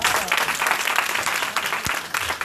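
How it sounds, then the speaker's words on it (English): Audience at a Miami MLM event breaks into steady, dense applause that fills the space throughout, with a few louder claps standing out near the end. "Give yourselves a round of applause."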